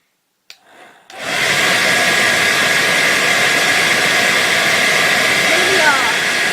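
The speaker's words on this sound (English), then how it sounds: "Hair dryer." A hair dryer blows hard on a spinning fidget spinner, giving a loud steady broadband roar with a faint high whine from the spinner, starting after a brief click and short quiet rustle.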